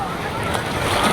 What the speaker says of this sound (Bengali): দেখুন দূরে কি ঢেউ আসছে